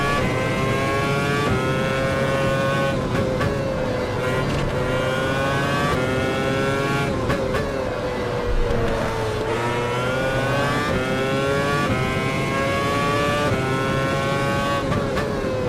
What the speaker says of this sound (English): The gear shifting sounds really good.